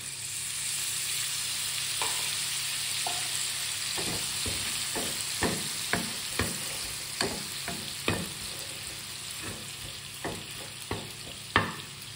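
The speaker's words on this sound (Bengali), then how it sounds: "এবার চিকেনটা দিয়ে দিলাম, ফ্লেমটা বেশ ভালোই এসেছে।" Chicken pieces frying in a hot pan with lemon juice, for lemon chicken, sizzle steadily up close while a utensil scrapes and knocks against the pan in a dozen or so sharp, irregular strokes.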